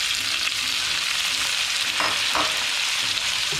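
Tomatoes sizzling in hot oil in a pan with onion, cumin, ginger and garlic for a chana dal with lauki, a steady close frying hiss with a couple of brief stirring scrapes.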